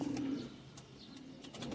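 Pigeons coo softly nearby, a few low, throaty rolling calls within a couple of seconds.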